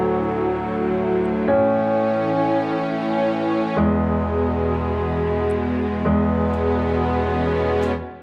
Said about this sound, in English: like all these keys and the piano sound like this